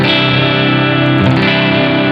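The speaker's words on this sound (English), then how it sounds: "I just wanted you to hear the special cranker do kind of like a real nerdy hangout review, kind of sound test to see what it does" Electric guitar played through an Earthquaker Devices Special Cranker overdrive pedal, giving a loud, steady, thickly distorted sustained chord that rings on with a brief pick accent partway through and no talking.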